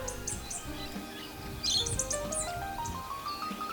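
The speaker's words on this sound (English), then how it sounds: "Here out in the deserts of South Australia are two masked wood swallows, a male and a female" A pair of masked woodswallows, male and female, give short, high chirping calls in the South Australian desert, a few scattered bursts close by over a soft background.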